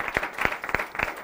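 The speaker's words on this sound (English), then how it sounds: "let's give our speakers a round of applause" An audience at a weather and climate summit applauds the speakers, with a sparse, rhythmic patter of claps at moderate volume in a conference hall.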